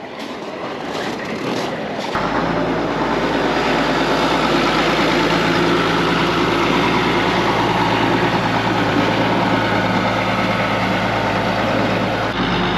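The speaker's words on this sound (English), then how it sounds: "I'm gonna take that tractor out of the shop here and let it warm up." A farm tractor, just pulled out of the shop on a cattle farm with corrals, starts up and settles into a loud, steady idle as it warms up, a constant close rumble after a brief quieter lead-in.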